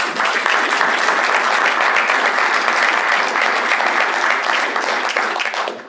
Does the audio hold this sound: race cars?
no